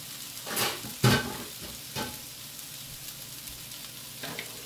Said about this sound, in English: Now we'll go ahead and add our 1/2 pound of ground turkey.